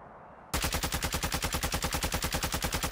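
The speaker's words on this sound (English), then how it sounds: "We hear gunfire, too." Automatic gunfire in a Warzone battle royale match bursts in after a short quiet moment, a loud, rapid, evenly spaced stream of shots sustained to the end.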